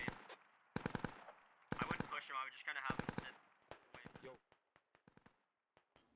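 Rapid automatic gunfire in the video game ArmA 2: Operation Arrowhead, several sharp bursts and single shots crackling in quick succession, some loud and close, others fainter and scattered, with no talking.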